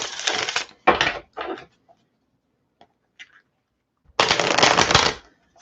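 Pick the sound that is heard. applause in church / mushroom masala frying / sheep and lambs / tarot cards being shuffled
tarot cards being shuffled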